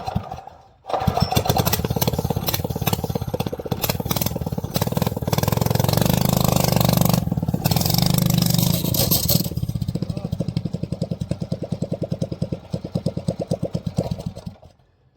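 A mini bike's small engine is pulled over, catches and runs, revving loud and close before settling into a rough, pulsing idle that fades out.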